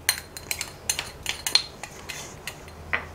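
A metal utensil stirs salt, pepper and crushed garlic seasoning into potato wedges in a bowl, giving a series of light, irregular clinks and scrapes at close range.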